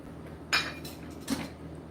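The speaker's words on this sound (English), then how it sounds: "so I'm going to remove the 1/2 inch spacer" A half-inch steel spacer is lifted out of press tooling, giving two short metallic clinks about a second apart against a quiet background hum.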